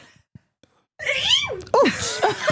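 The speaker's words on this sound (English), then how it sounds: "Hold on, I'm going to sneeze." A loud, drawn-out sneeze with a strained wailing pitch, preceded by a quiet pause and a few soft breaths, close to the listener.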